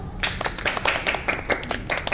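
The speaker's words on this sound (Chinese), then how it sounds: "好，哎， 好，好，鼓掌。" A small group clapping together on command, brisk irregular hand claps in a steady burst close by, with no talk over them.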